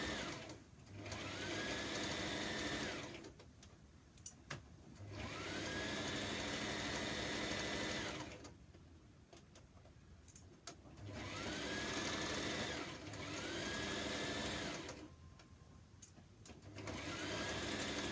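A sewing machine stitches a top in several separate bursts of whirring, each running a few seconds before stopping, with quiet pauses between runs, close and fairly loud.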